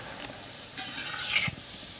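Goja sweet pastries fry in hot oil, giving a steady, loud, close hiss with a few faint scrapes of stirring and no voices.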